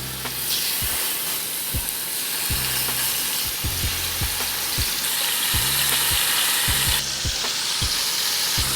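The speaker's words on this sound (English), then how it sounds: "then we're gonna add our meat to sear it," Beef sears in a hot cast iron pan with a steady, loud sizzling hiss, broken by regular knocking scrapes of a utensil moving the meat, close up with no talk.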